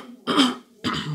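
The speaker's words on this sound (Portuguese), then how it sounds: "Muito bem, um pigarro danado." Two gruff throat-clearing bursts from a man, close to the microphone, separated by a short silent gap.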